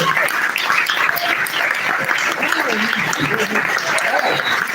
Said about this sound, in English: Keep that applause going for all the storytellers who came up and shared tonight